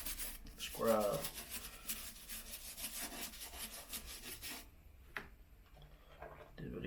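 A brush scrubs dirty Air Force One sneakers in fast, rough back-and-forth strokes, close and continuous for several seconds before stopping, with a brief voice early on and a few small knocks afterward.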